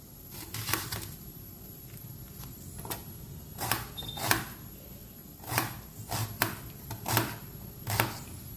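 A knife chops washed curry leaves on a board, up close: about ten sharp, uneven strokes, some single and some in quick pairs, over a quiet room with no talk.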